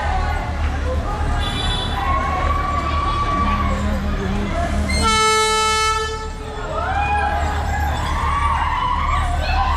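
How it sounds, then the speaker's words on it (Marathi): The Matheran toy train arrives at Aman Lodge station on its line to Matheran, its horn sounding a loud, sustained blast midway over the rumble of the train and background chatter from people nearby. "आपली ट्रेन आली"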